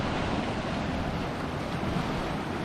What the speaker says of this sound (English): let the waves wash over me